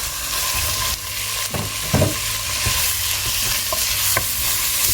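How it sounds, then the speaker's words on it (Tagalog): Minced pork fries with browned garlic and ginger in a pan for ramen: a steady, close sizzle with scraping stirring strokes scattered through, and no voices. "Let's cook the minced pork until it's no longer pink in color"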